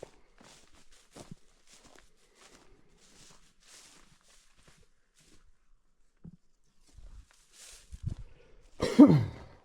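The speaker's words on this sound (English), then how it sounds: "Just can't shake this cough." A few faint shuffles and scrapes, then a sudden harsh cough near the end, close and fairly loud.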